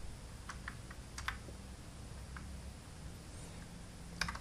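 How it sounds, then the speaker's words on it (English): Light, quiet clicking of keys on a computer keyboard in a home studio setting, a few scattered keystrokes and short bursts spread over several seconds against a steady background hiss. "you simply go to just type Scarlett"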